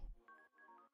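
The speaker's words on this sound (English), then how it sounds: "That is my phone." A phone rings softly nearby during a Pokémon match, with a repeating electronic ringtone of pulsed bright tones following a brief low thump.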